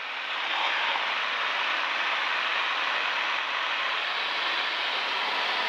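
Inside a Piper Lance Turbo II lining up to land on runway 24 at Bowman Field, the engine and airflow make a loud, steady, unbroken roar throughout.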